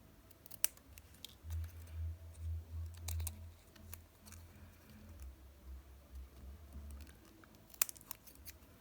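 Scissors snip through paper, cutting a point-to-middle notch to form a small banner shape for a handmade journal collage strip; a quick run of close, rhythmic snips with light paper rustle and no talking.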